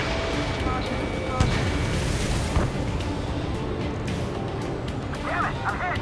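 A target exploding in the Ace Combat 7 combat flight game: a couple of sharp booms stand out above a dense mix of engine noise, radio voices and effects, with talk running underneath.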